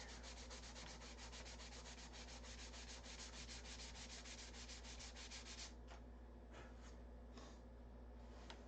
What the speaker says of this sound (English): All I do is sand.